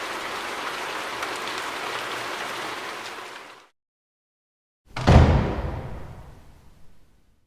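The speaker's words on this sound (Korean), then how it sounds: "운명의 장난처럼 그날 밤엔 다시 비가 내리기 시작했습니다" Rain falls at night as a steady, dense hiss that fades out, then after a pause returns as a heavier downpour that swells and gradually tapers, with no voices.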